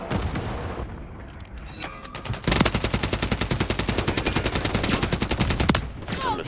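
Rapid automatic gunfire in Call of Duty: a few scattered shots, then a long sustained burst of close, loud, evenly spaced rounds lasting about three seconds before stopping.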